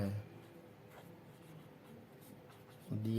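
A pen writes a trigonometry solution on paper, soft continuous scratching and rubbing strokes close up and faint, with brief voice at the start and end.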